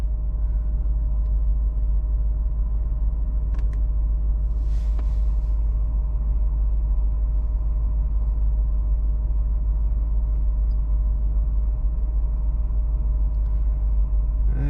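Warmed-up Audi 4.2 V8 40-valve engine idling, a steady low rumble held evenly throughout with a faint high whine and a couple of brief clicks near the start.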